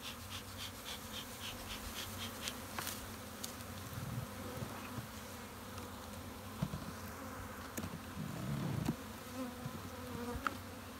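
Honeybees hum steadily from an opened winter hive in cool sunshine, a soft continuous buzz with occasional louder individual bees passing close.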